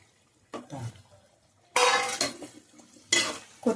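Fried eggs are added to a masala curry in a pan, giving a few close bursts of clinking utensils, stirring and faint sizzling between quiet gaps.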